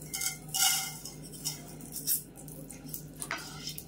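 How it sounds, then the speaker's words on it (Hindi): Gond (edible gum) roasting in desi ghee is stirred steadily in a pan, a spoon scraping and clinking against the metal in short repeated strokes over a faint sizzle. "गोंद को भी इस तरह से लगातार चलाते हुए रोस्ट करेंगे।"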